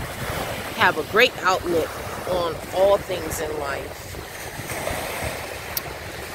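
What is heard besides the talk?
waves of open water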